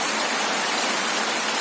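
The first monsoon rain falls over dry crop fields in Maharashtra, India, a steady, dense hiss of heavy rainfall with no other sound heard above it.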